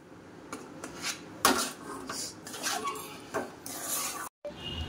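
Jaggery mixture being stirred in a pan over a low flame, with a utensil scraping and clinking against the metal in irregular strokes, close and moderately loud.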